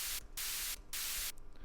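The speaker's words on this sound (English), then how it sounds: "a white noise by itself is too harsh" Harsh white noise sample for a drum and bass track comes in three loud, full-band hissing bursts separated by short gaps, heard alone.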